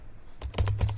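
A computer keyboard is typed on in a Windows 11 command prompt, a brief burst of several close, crisp keystrokes in quick succession with no talking.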